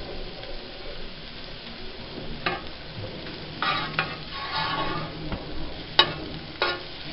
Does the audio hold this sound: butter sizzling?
yes